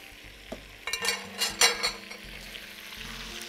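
Sausage, beef or lamb, sizzling in a pan with paprika and garlic seasoning, a steady close frying hiss with several louder spitting bursts and stirring scrapes.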